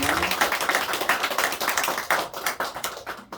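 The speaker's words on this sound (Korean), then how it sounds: "박수를 보내드리겠습니다." Church congregation clapping during a Sunday morning service, a dense run of sharp hand claps with uneven rhythm that fades out near the end.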